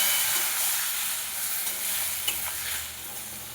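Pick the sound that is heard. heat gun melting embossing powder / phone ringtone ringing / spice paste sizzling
spice paste sizzling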